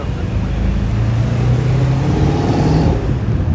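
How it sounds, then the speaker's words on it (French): A Ford Mustang V8 revs loudly close by in a parking area, a deep rumbling engine note that rises and falls through several throttle blips over a few seconds. "Oh le bruit du V8!"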